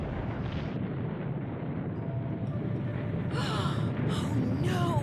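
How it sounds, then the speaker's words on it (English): Steady low roar of an avalanche in the Nancy Drew: The White Wolf video game, loud and continuous throughout, with faint higher whooshes and gasps layered over the rumble near the end. "Oh shit. Avalanche!"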